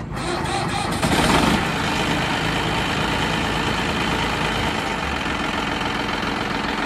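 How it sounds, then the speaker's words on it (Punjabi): A Massey Ferguson 9500 tractor in very good condition idles nearby with a steady, even diesel rumble that holds throughout, with a slightly rougher burst near the start. "ਦੋ ਬਾਈ ਟਰੈਕਟਰ ਦੀ ਸਟਾਰਟਿੰਗ ਕਰ ਲਓ ਚੈੱਕ"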